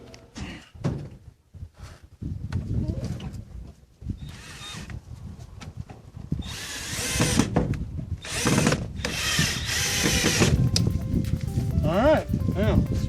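A power drill drives screws into wood to hang a home-built greenhouse window, with several bursts of whirring drilling between knocks, thunks and handling noises, while a person talks.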